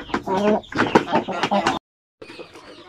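Basilan native chickens in a farm pen: close clucking and short fowl calls, mixed with a voice speaking nearby, then a brief gap and more quieter clucking.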